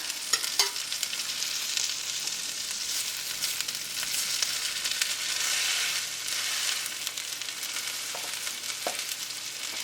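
Four chicken patties fry in a pan with a steady, close hiss and sizzle, broken by a few faint scrapes as they are pressed flat; no one speaks.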